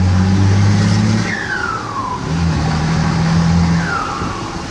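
Ford F250 engine running rough on five cylinders, a low uneven idle rumble near and steady throughout, with faint whining tones rising and falling above it.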